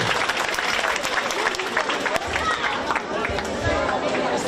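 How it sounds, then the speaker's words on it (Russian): A crowd at an outdoor festival honouring a wrestling champion applauds in a dense, lively ripple of clapping, loud and sustained, with some chatter mixed underneath. "Еще раз аплодисменты."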